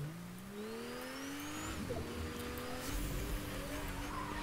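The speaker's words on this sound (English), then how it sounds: "I hear someone in that car." A car in a video game revs its engine, rising pitch sweeps climbing and shifting as it accelerates, with tire squeals near the end, moderately loud and heard without talk.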